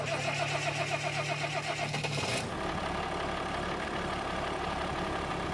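Vintage tractor engine in Farming Simulator 25 cranking and firing up, moving from a buzzy starter whir into a steady, rumbling mid-pitched idle heard close and loud with no talk.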